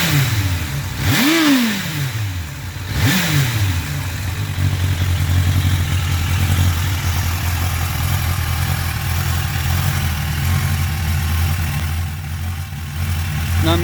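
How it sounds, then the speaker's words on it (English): A 1993 Suzuki Katana 750 motorcycle engine revs sharply twice near the start, then settles into a steady, loud idle burbling from the exhaust for the rest of the time. "Now I'm going to let you listen to the exhaust noise."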